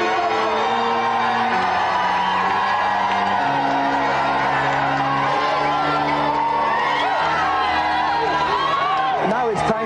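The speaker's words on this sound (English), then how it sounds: "let's have a round of applause for both our guests today" A game-show studio audience cheers, whoops and claps loudly and continuously under music, with shouts rising out of the noise.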